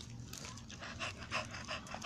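A bully breed dog pants in quick, steady breaths at close range, soft and rhythmic, with no talking over it.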